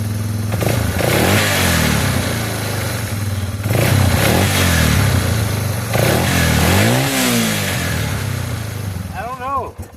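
A motorcycle engine being adjusted, idling loudly and continuously up close, with revs rising and falling several times as the idle is set; a voice talks briefly over it.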